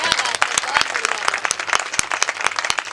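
An audience at a Hindi comic poetry gathering claps in quick, uneven bursts, close and fairly loud, with sharp individual hand claps standing out over a steady patter.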